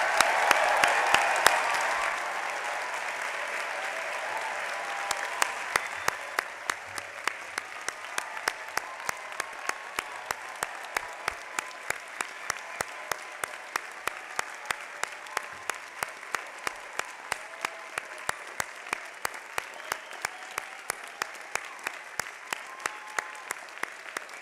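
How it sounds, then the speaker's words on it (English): An audience at a university commencement gives graduating students a long round of dense applause that swells at first and then settles into steady clapping, with rhythmic group claps punctuating the later part. "join me now for a really robust round of applause for these students"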